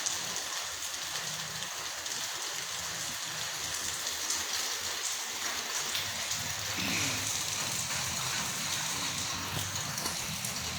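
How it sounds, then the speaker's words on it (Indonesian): Steady afternoon rain falls continuously, a dense even hiss of drops on surfaces holding the same level throughout with no voices. "saya menunggu sejenak untuk menanti redanya hujan di sore hari ini"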